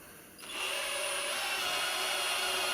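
A steady, whining drill bores into stainless steel at low speed, starting up after a brief moment and running continuously, fairly quiet and unbroken.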